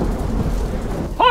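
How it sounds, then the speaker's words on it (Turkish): Steady rain with low rumbling thunder, a broad continuous wash throughout, heard in a dramatic film trailer before a voice cuts in at the very end. "Yine yağmur geldi."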